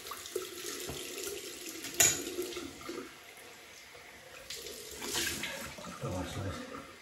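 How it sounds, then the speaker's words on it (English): Tap water running into a sink for a cold rinse during a wet shave with a DE safety razor, steady splashing and gurgling with a brief louder clatter, close, with faint background noise. "cold water rinse."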